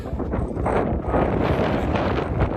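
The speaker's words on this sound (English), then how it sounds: "Gusts out here are pretty incredible right now." Strong mountain wind gusts buffet the microphone on a hike to White Mountain Peak in a steady roar with rougher surges, loud and close throughout.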